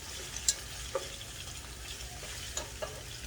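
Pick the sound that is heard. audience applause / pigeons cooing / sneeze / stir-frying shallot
stir-frying shallot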